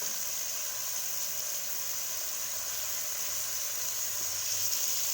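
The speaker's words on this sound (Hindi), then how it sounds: "अब टमाटरों की अच्छे तरीके से भुनाई कर लेंगे ताकि इसका मसाला अच्छे से अच्छा मसाला इसका बने।" Tomatoes sizzle steadily as they roast in a masala for an aloo palak sabzi, a soft continuous hiss of frying that holds even and unbroken with no voices.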